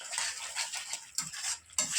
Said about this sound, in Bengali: যে মশলাটা আপনাদের দাদা পেস্ট করে দিল না, সেই মশলাটাই আর কি কষাচ্ছি